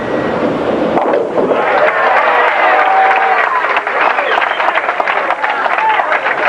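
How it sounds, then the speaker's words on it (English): A bowling alley crowd at a 1986 televised pro bowling match cheers and claps loudly and continuously for a spare, a dense, sustained roar with scattered whoops. "Crowd woke up. For a spare."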